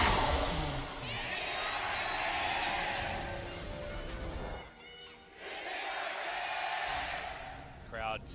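A large crowd fills the Samsung World Gymnasium at an esports league final, a steady roar of cheering and chatter that dips briefly before swelling again, with a commentator talking over it.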